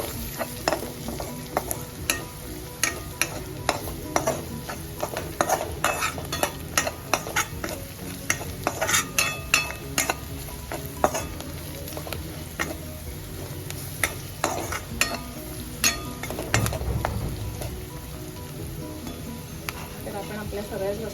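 Pumpkin sabji stirred in hot oil with asafoetida and turmeric, a steady sizzle and frying hiss under frequent scraping and clinking of the spoon against the pan, loud and close throughout.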